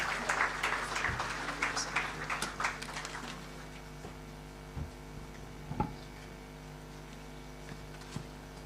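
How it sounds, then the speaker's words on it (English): A brief scatter of audience applause at a public ceremony fades after a few seconds, leaving a quiet hall with occasional knocks and thumps. "let's give him a round of applause"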